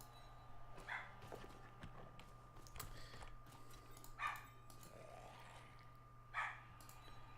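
A puppy barks three times, short yelps a couple of seconds apart, faint and somewhat distant against a low steady electrical hum.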